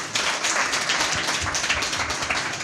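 An audience at a church prayer service claps loudly and continuously, a dense, close wash of many hands throughout.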